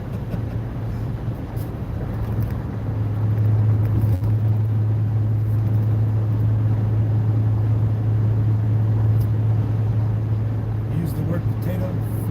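Steady hum of a car being driven on the road in the morning, a low constant engine and road drone heard from inside the cabin, rising slightly after the first few seconds and holding evenly, with a person talking over it.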